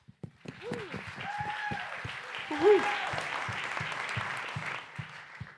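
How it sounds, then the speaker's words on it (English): Applause from the audience at an MIT startup competition event, a steady wash of clapping running the full length, with voices talking and calling out over it. "just want to give them all a big round of applause"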